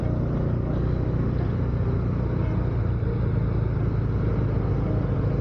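Two motorbikes ride on a road near Koteshwar, Kathmandu, their steady low engine rumble and road noise continuous and close throughout, with no talking.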